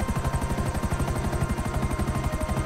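Rapid rhythmic rotor thumping from a helicopter in GTA 5, loud and continuous at close range, unbroken by voices.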